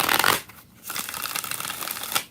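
A deck of tarot cards is shuffled close up, with quick riffling bursts of papery flutter separated by brief pauses, no talking.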